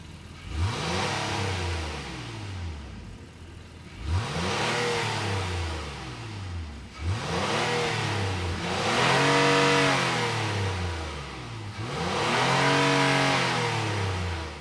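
The 3.5-liter naturally aspirated V6 of a 2025 Honda Passport Trailsport, revved repeatedly from idle in about four separate rising-and-falling bursts, loud and close with no talking.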